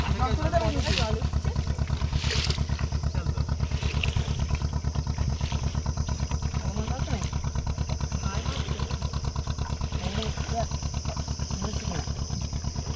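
A motor boat on the Gomor river during a fishing trip, its engine thudding in a fast, even rhythm close by for the whole stretch, with voices talking faintly over it.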